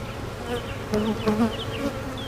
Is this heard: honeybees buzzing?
yes